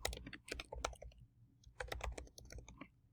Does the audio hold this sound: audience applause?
no